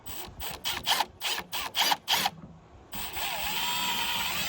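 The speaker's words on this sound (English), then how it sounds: "I'm going to take a smaller bit to start and pre-drill my hole" A power drill pre-drilling a small pilot hole for a backup camera washer install whirs in several short, sharp bursts, then settles into one longer steady run at the end, close and fairly loud.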